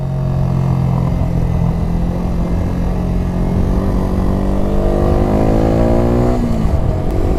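Motorcycle engine droning steadily at close range while riding, with harmonics that climb as it accelerates toward the end; no talking.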